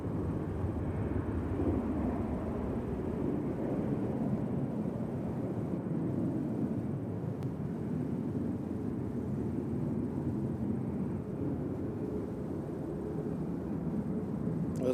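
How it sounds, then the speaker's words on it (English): A Delta Boeing 737-900 jet at Nashville International Airport gives a steady, broad roar throughout, distant and continuous with no talk over it. "The Delta that you're looking at is going to be going to Atlanta. It's a 737-900. It'll make some noise."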